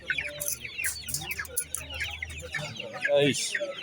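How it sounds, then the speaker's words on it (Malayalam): Native hens at a poultry market in Kalpakanchery, Kerala, cluck and squawk close by in irregular bursts, one louder agitated cackle near the end, with people talking quietly in the background. "ഇത് നാടൻ കോഴി തന്നെയാണുള്ളത്."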